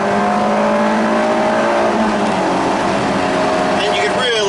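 Honda S2000 sports car engine revving high toward 8,000 RPM while driving and cutting back and forth on the road, a loud sustained rising engine note filling the whole stretch with a rising whine at the end.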